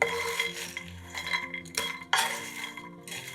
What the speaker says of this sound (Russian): Обжариваем сухарики до золотистого цвета, периодически перемешивая.